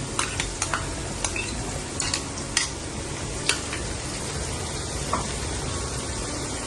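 Ginger-garlic paste frying in a pan for chicken dum biryani gives a steady, close sizzle, with scattered sharp spoon clicks and scrapes as it is stirred, and no voices.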